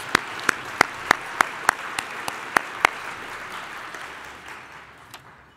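A luncheon crowd at a civil engineering conference applauds the sponsors, with steady clapping punctuated by a regular series of loud, sharp nearby claps before fading out.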